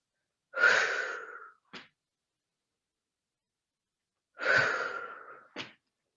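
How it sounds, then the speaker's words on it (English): Two long breaths blown out through the mouth during a yoga session on a mat, each a breathy whoosh ending in a short puff, separated by a few seconds of silence, close and without talk. "Keep exhaling through the mouth."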